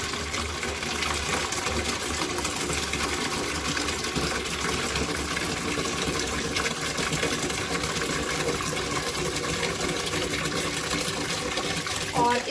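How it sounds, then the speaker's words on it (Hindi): Water from a tap pours steadily into a bucket or tub, about 2 litres, for washing fruit and vegetables, a continuous close gushing stream throughout with faint background noise. "लगभग 2 लीटर बकेट में पानी लेना है या फिर टब में लेना है।"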